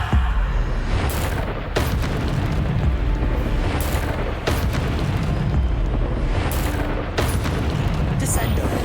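Bombardo, Descendo and Depulso spell blasts in the Hogwarts Legacy video game, a dense run of heavy booming impacts and sharp cracks repeating every second or so over a constant roaring din, with a voice calling out spell names throughout.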